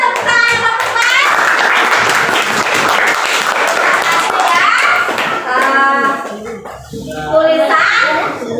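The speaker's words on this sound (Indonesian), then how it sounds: "Mana tepuk tangan kelompok 4?" Children in a classroom clap their hands, loud rhythmic group clapping mixed with kids' voices and chatter, easing off partway before a brief burst of clapping and talk at the end.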